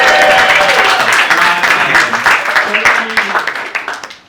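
Audience applause at an interview event, dense clapping mixed with a few voices that gradually thins into scattered individual claps as it fades out.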